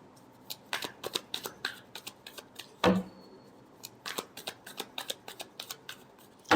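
Tarot cards are shuffled by hand close up in a quiet room, a rapid series of crisp riffling bursts and soft slaps with brief pauses between them.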